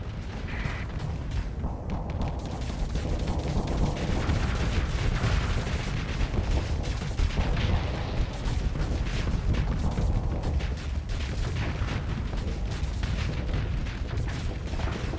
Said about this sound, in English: Oh, that's a lot of missiles.